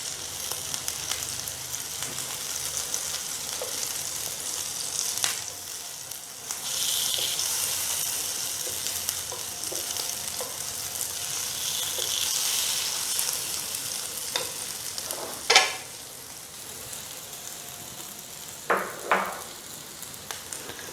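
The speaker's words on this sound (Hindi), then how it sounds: "इसको चारों तरफ से घुमा घुमा कर अच्छी तरह से फ्राई करेंगे।" Kebabs frying in a pan and being turned on all sides, a steady hissing sizzle that swells and settles, with a few sharp clinks and scrapes as pieces are flipped, close and without talk.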